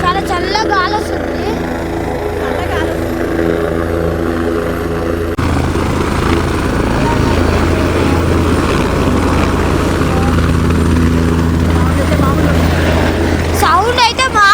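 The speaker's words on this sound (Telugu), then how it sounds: "హెలికాప్టర్ ఒకటైతే దింపేసి పోతూనే ఉంది." A helicopter at Kedarnath lands and lifts off nearby, a loud sustained rotor and engine roar that shifts partway through, with people talking over it.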